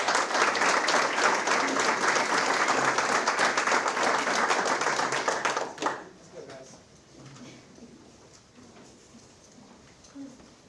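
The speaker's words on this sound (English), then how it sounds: "let's give them one more round of applause" Sustained, dense applause from an audience at a school board of education meeting, loud and steady for about six seconds before cutting off and fading into faint room noise and scattered murmurs.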